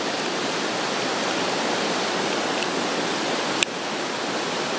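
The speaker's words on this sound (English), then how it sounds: "So here we are at the lower lookout to the Wairere Falls." Wairere Falls pours down as a loud, unbroken roar of falling water heard from the lower lookout, steady throughout with a single brief knock near the end.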